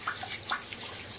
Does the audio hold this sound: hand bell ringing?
no